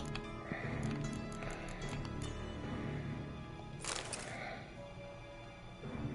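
In Witcher 3, a horse's hooves clip-clop at a steady pace, mixed with other game sounds and a short louder burst partway through.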